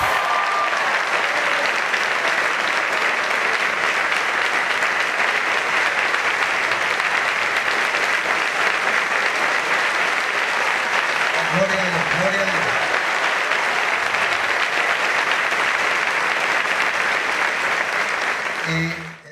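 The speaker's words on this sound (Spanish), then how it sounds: "Ese aplauso es para el Dios de los cielos y para nuestra hermana con ese apoyo." Sustained applause from a church congregation at the inauguration of a church building in Homestead, a loud, continuous roar of many hands that holds steady throughout, with a brief voice surfacing midway and the clapping tapering at the very end.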